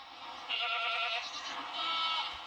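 Goats bleat in a community area, higher-pitched harmonic calls running through most of the short stretch, with a second bleat toward the end, fairly near over a faint background.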